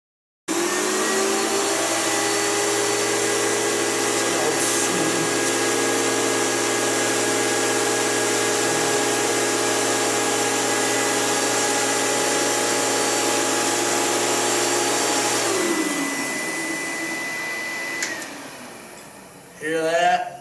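A Filter Queen 95x canister vacuum cleaner runs with a steady, loud motor whine and airflow roar, then shuts off and spins down with a fading hum and a few clunks at the end.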